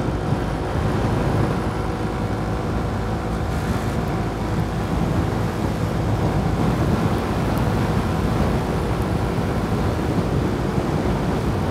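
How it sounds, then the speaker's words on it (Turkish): Steady, loud wind buffeting outdoors, a constant broadband roar with rumbling low end, like gusts hitting a microphone near open water. "Şu anda bayağı bir rüzgar var."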